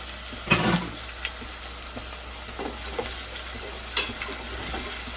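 Onion, green chilli and tomato pieces fry in hot oil with a steady, close sizzle, broken by a couple of sharp scrapes and clatters as the mix is stirred.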